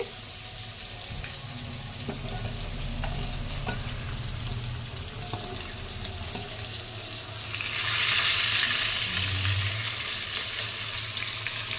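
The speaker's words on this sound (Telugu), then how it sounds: "ఈ చేపలు నూనెలో మొలగాలి." Fish frying in hot oil in a pan, a steady close sizzle and crackle that swells louder near the end, with faint clinks in the background.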